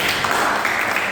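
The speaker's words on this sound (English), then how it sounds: "Clap for him" Classroom applause in a physics lesson, a dense, steady patter of many hands clapping together for a student, filling the whole short moment at moderate loudness.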